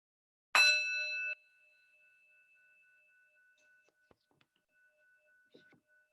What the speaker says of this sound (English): I'm going to start and end the practice with the chime of the bell